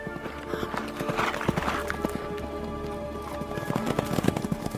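Horses' hooves clip-clop at a steady walking pace as riders set out over a bridge toward wild country, soft and fairly quiet, with faint background texture and no speech.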